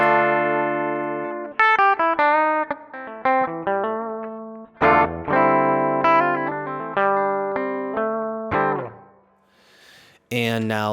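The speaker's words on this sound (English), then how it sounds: "So here's what my dry signal sounds like." Dry, unamplified electric guitar signal: a run of plucked single notes and brief chords, close and clean, with short gaps between phrases and a quiet fade near the end.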